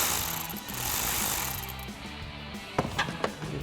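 A ratchet with a 12mm socket loosens the positive battery terminal nut on a Tacoma, a fast close clicking and grinding that ends in a few sharp metallic ticks.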